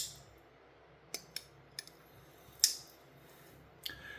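A Sixleaf SL-78 folding knife with a heavily oiled mechanism sticks as it is opened and closed, giving a handful of sharp, separate clicks and snaps against a quiet background.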